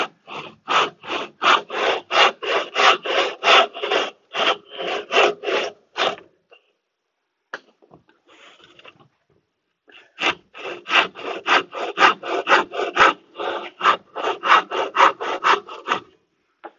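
A hand saw cuts a coarse wood block in brisk, rhythmic push-pull strokes, about a dozen rasping passes, then a pause with faint handling sounds before another run of steady strokes, close and alone.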